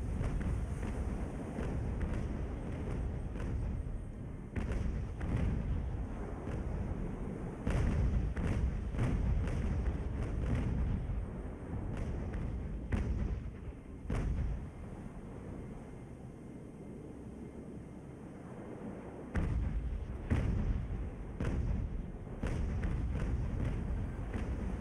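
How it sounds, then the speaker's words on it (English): Naval cannon fire in the age-of-sail naval battle game Ultimate Admiral: Age of Sail, with repeated dull booming thuds at irregular intervals over a continuous rumble of wind and sea. "left-hand cannons off for a minute, just to give us enough time to finish these guys off."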